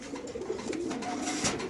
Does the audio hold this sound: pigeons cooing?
yes